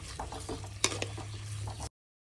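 Chopped onions sautéing in a pan for mutton kulambu make a quiet, steady sizzle with soft stirring scrapes and one sharp clink of a spoon. The sound cuts off abruptly before the end.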